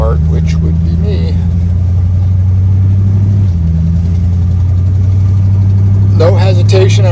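A 1947 Ford Custom four-door sedan pulls away in low range, its engine drone steady and close as the automatic shifts up into second, with a brief pitch drop mid-clip and a voice talking over the engine throughout.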